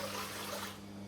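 Water poured into a cooking pot in a home kitchen, a steady broadband splashing rush that fills the brief moment and eases off near the end, with low hum underneath.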